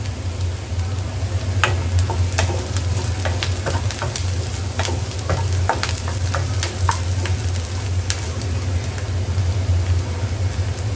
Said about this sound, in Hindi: सो यहाँ पे हम प्याज को गोल्डन कर रहे हैं, होने दूंगी मैं इसको गोल्डन